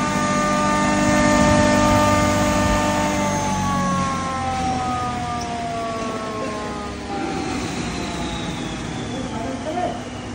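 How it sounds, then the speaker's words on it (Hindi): A double chamber multipurpose aata chakki flour mill with a heavy rotor and cutter plate runs close by, giving a loud, continuous motor hum and whine with tones that slowly drift in pitch and no pauses. "अब मशीन आपको चालू करके दिखाता हूँ।"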